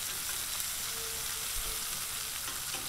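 Garlic butter sizzles steadily on a Blackstone 22-inch flat-top griddle beside vegetables during a teppanyaki-style hibachi steak cook, a constant close frying hiss with no talking.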